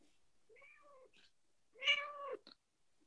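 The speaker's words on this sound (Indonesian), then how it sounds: "Ih, kucing siapa tuh?" A cat meows several times indoors: a few soft, drawn-out mews followed by one louder, longer meow and a short chirp, close but not loud.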